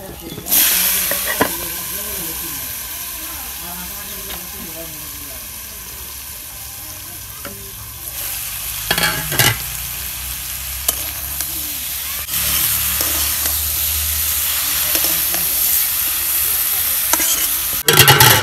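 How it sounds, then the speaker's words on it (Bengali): Fish curry with brinjal and potato sizzles steadily in a pan as it is stirred, a continuous close frying hiss with occasional scraping clatters and brief voices in the background. "কি সুন্দর করে তরকারি কষে নিতেছি"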